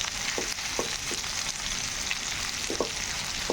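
Bitter gourd pieces frying in a pan for a masala pulusu, a dense continuous sizzle up close with a few short spatula stirs knocking through it.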